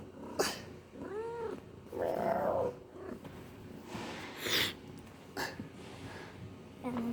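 A cat outdoors gives several distinct rising and falling meows at close range with soft purring between them, while people talk nearby.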